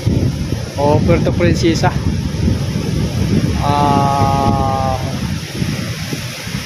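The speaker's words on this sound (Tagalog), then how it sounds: "Ayan, lakas kasi ng hangin." Wind roars steadily against the microphone with a rushing, wave-like wash beneath, while a person speaks briefly over it.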